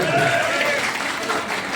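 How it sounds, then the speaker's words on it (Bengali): An audience applauds during a political gathering in Kishoreganj, steady dense clapping throughout with crowd noise and voices mixed in. "একটা হাততালি দেন আপনারা"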